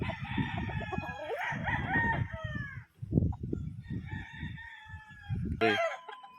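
A sweater gray gamecock rooster crows close by, several hoarse crows with clucking between them and a sharp squawk near the end.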